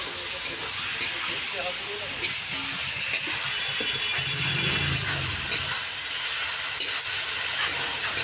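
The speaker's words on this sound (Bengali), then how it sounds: "ভালো করে মশলাটা কষা হয়।" Masala paste of green chili, chili powder and turmeric fries in a pan for a country chicken curry, a steady loud sizzle and hiss with scraping stirs and light rattles, and a voice speaking over it.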